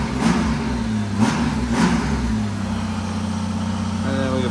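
A 1999 Honda Gold Wing GL1500 50th Anniversary motorcycle engine fires up and idles steadily, with a few sharp throttle blips rising above the smooth, quiet running, heard close by.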